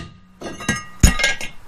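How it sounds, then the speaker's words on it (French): A tool strikes a worn brake disc on a Renault Twingo four or five times, each a sharp metallic clink with a ringing tail, irregularly spaced and close by. "Vu que le disque il est mort, vous n'avez pas peur de taper dessus."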